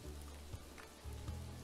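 Rain ambience inside a Gordon Ramsay cooking video game, a steady soft patter of rainfall with a low rumbling bed underneath, no voices.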